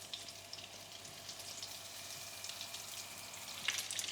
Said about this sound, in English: Once the oil is nice and hot, I'll start adding my aubergines.